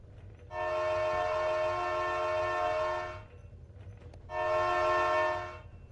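Two long blasts of a train horn in Minecraft, the first about three seconds long and the second shorter after a pause, loud and chord-like over a low rumble of moving rail cars.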